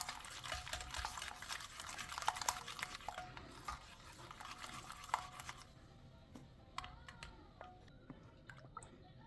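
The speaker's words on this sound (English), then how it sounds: "And I whisk until it's smooth, creamy, and fluffy." Waffle batter with sugar, melted butter and vanilla is whisked in a bowl, a quiet, wet, rapid clicking and sloshing that grows sparser toward the end.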